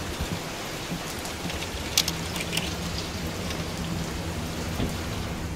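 Steady, heavy rain in the horror game Layers of Fear, a dense continuous hiss of drops pattering on surfaces with a low rumble beneath and a few sharper splashes, no voices.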